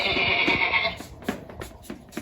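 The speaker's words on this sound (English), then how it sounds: "There's a bunch of sheep." Several sheep out in a field bleat in a wavering, sustained cry during the first second, followed by softer scattered rustles and thumps.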